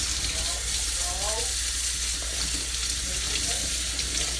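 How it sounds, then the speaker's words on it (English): Kitchen tap water runs steadily in a sink while vegetables are rinsed by hand, a continuous hiss close by with faint handling sounds and no talk. "I feel like I shouldn't even have the water running this whole time."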